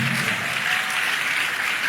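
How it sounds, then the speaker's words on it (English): A church congregation applauds during a sermon on marriage, a dense, continuous wash of clapping from many hands that holds steady and fairly loud throughout. "This is a good place to clap."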